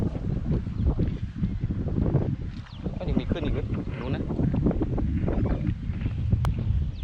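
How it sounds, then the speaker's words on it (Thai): Wind gusts buffet the microphone beside a boat on open water during a fishing outing, a loud, uneven rush with thumps and splashy knocks, while someone talks over it. "โอ้ลมดีจังเลย"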